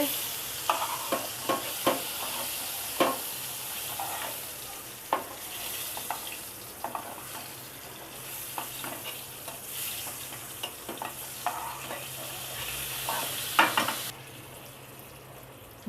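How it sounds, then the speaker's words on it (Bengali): Scooped-out pointed gourds frying in oil, with a steady sizzle broken by repeated sharp scraping and stirring knocks of a spatula against the pan, fairly close and without talk. "স্ক্রুপ করা পটলগুলোকে ভেজে তুলে নিচ্ছি।"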